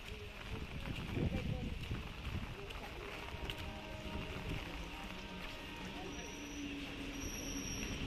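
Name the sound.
train arriving at station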